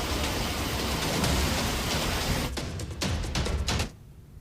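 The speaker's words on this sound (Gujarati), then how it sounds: "વરસાદ વરસી રહ્યો છે" Heavy monsoon rain pours in a dense, loud hiss over Gujarat villages, then thins into sharper scattered bursts before cutting off abruptly near the end.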